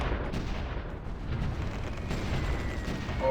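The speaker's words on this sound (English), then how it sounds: "But we're in the middle of all their artillery fire." Artillery fire in the strategy game Supreme Ruler Ultimate, a continuous muffled rumble of distant shelling and booms layered together, steady and moderately loud, with no talk.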